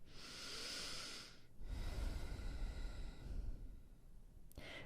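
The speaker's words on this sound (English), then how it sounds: "Slow exhale the same way." Soft, slow breathing through the nose during a yoga session: a gentle hissing airflow, then a longer, breathy exhale, faint and close with nothing else around.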